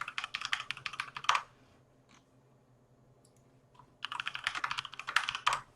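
Rapid typing on a computer keyboard, a dense run of close clicks, then a pause of a few seconds with a few stray taps, then another burst of fast keystrokes.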